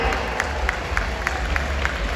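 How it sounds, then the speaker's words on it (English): A crowd applauds and cheers at a SeaWorld San Antonio beluga whale show, a broad wash of clapping with regular sharp accents, steady and moderately loud from start to finish. "Everybody, how about a big round of applause for Samson and Ada?"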